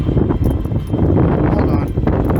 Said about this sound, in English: Where did all this wind came from?